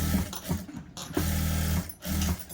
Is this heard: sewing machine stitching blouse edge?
yes